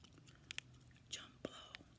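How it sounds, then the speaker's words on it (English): Someone chews JumBlo bubble gum close to the microphone, giving soft, wet, irregular smacks and clicks alongside quiet whispering. "Here's some bubblegum I'm chewing, by the way."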